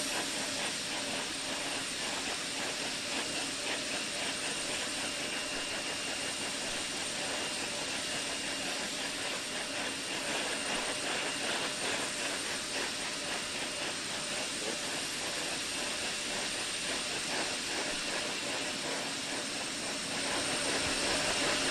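Hydraulic test of the Space Shuttle Columbia orbiter's flight control surfaces before STS-78 launch: a steady, loud broadband roar like jet engine noise holds for the full stretch, with no talk.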